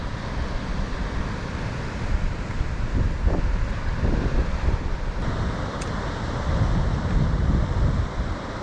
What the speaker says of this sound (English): Very windy, Scott's Head.